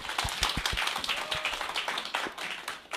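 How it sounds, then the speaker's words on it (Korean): Audience applause welcoming a speaker to a lecture, a fairly faint, steady patter of many hands clapping that continues throughout the short stretch. "큰 박수로 모시겠습니다"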